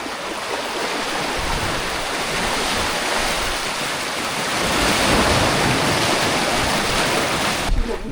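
Rough sea surging against the shore at Mubarak Village, a loud, continuous roar of crashing and washing waves with wind buffeting the microphone and no voices.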